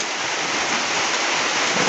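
Rain falls steadily on a rainy day outside a home kitchen, a dense, even hiss of broadband noise that stays constant and fairly loud with no talking.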